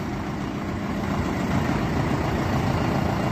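A Solis 105 tractor engine idles with a steady, low rumbling drone and broadband noise, close and constant with no pauses.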